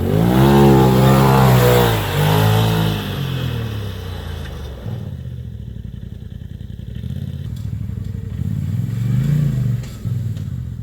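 A Polaris RZR Turbo side-by-side drives across a farm, its engine revving loudly up close at first, then settling into a lower steady rumble with some clatter before revving up again.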